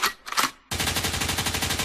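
A gunshot sound effect in a rap track: two quick sharp bursts, then a dense, loud, evenly spaced rapid-fire volley like an automatic weapon, with no voices.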